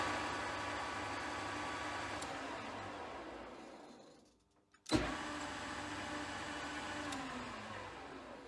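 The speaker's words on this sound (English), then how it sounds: "The sound you hear is just a belt." A machine belt runs during testing of a replaced on/off switch on a Weiler machine, a steady mechanical whir that dies away, goes silent briefly, then restarts with a sharp thump and runs on evenly.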